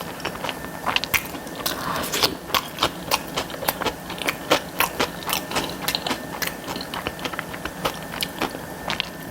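Domino's sweet potato pizza being chewed close up, with repeated crunchy, wet bites in a steady rhythm and no talking.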